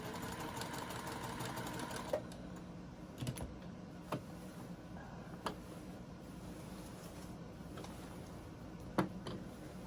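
Sewing machine stitching down a small appliqué leaf on a patchwork garden quilt, a soft steady mechanical whir with a few sharper ticks, quiet and close.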